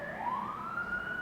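An emergency vehicle siren wails steadily in the distance, a faint rising tone that holds for a moment as it passes, with no one speaking.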